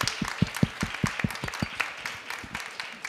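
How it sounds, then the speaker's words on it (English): Audience applause at a climate-resilient agriculture panel at a COP pavilion, with a few sharp, distinct claps over a thin, scattered patter from a modest crowd, fairly steady and tapering slightly. "Huge round of applause for them."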